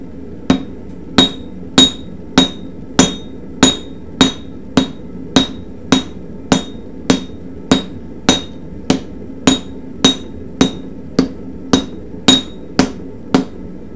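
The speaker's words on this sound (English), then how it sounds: "tap it with a hammer and see what it does" Hammer on hot steel over an anvil, forging a San Mai blade: about twenty sharp ringing strikes at a steady even pace, loud and close with nothing else over them.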